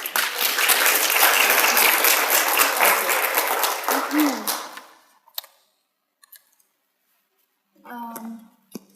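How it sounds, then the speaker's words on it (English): An audience at a business-of-blogging talk gives a round of applause for the speakers, lasting about four seconds before dying away, followed by near silence and then a speaker beginning to talk. "please can we start, as we need to go on, with a round of applause to introduce our speakers"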